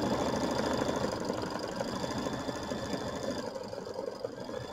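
Embroidery machine running steadily through a small triple stitch, a dense continuous mechanical whirr with rapid needle rhythm, close and fairly loud, no talking.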